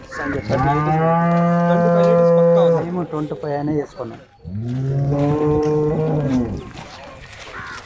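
Jersey cross dairy cows moo loudly and close by in two long, drawn-out calls separated by a short pause, with a person speaking briefly between them on a farm.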